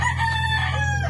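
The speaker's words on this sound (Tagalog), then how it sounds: "Oh, madami manok." A Texas-breed rooster crows nearby in one drawn-out call over a steady low hum, without talk.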